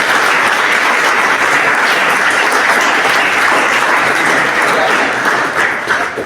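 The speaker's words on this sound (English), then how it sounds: "Can I have a big round of applause," A large audience applauds loudly and continuously, dense clapping that fades slightly at the end.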